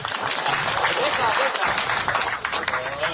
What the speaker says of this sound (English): big clap for the design as well